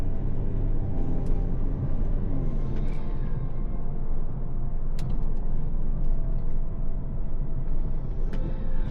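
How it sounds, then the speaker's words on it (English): Intake and engine noise from a stage 2 tuned BMW F30 while driving, a steady loud drone with low rumble running through the whole stretch, with occasional faint clicks and knocks on top. "right now the intake noises are louder than the exhaust itself"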